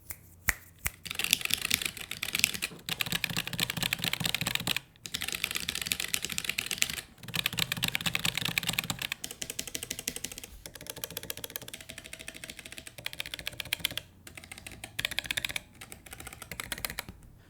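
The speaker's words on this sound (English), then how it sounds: "here's a sound test of the keyboard" Typing on a ZSA Voyager keyboard, rapid close-up keystrokes in steady bursts broken by short pauses, crisp and clicky with no talking.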